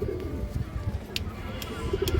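A ring-eyed pigeon at a farm gives low, soft coos against a murmuring background, a couple of brief calls near the end.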